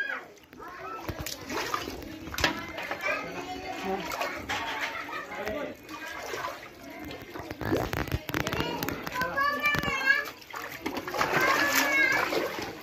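Floodwater pouring into a house, heard as splashing and running water under overlapping voices of adults and children talking throughout.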